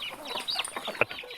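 Native country chickens on a farm cluck softly in a short, close burst of several quick calls, with no talk over them.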